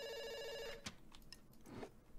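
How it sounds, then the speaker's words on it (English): A telephone rings in a video game, a rapid electronic bell trill lasting under a second before it cuts off, followed by faint scattered clicks and game sounds. "I'm not answering that phone."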